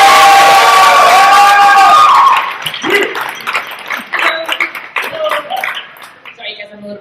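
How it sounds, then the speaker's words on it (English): A crowd at a Nerd Nite talk in San Diego bursts into loud cheering, whoops and clapping for a speaker's introduction, then the applause thins out into scattered claps and shouts. "Please make it really loud because she might be dead and can't hear you, for Deanne Rugani."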